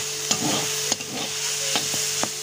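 Bananas frying in a pan, giving a steady close sizzle with a few sharp clicks of stirring and a faint continuous hum throughout.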